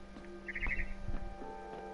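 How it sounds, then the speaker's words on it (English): A barn swallow chirps outside a window in the video game What Remains of Edith Finch: a few soft, quick chirps over a steady low hum, with no talking. "Then I heard chirping outside my window."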